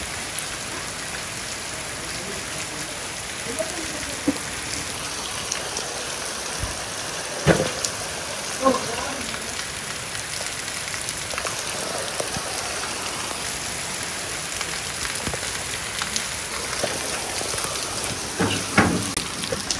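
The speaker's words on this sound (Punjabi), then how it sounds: "ਬਾਰਿਸ਼ ਕਾਫੀ ਤੇਜ਼ ਹੋ ਗਈ ਆ" Heavy rain pours steadily on a farm, a dense continuous hiss of water on surfaces with a few sharper drips and knocks, loud and close throughout.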